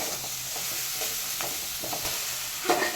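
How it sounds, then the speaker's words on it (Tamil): Maggi noodles frying with masala in a pan, a steady sizzle with occasional stirring scrapes and a louder clatter near the end, close up and with no talking. "மசாலா மேகி நல்லா ஃப்ரை பண்ணிட்டுருக்காங்க பாருங்கள்."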